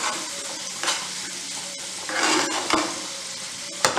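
Potato stuffing with green chilli stirred in a hot pan, close spatula scrapes in bursts over a continuous sizzle, ending in a sharp knock against the pan.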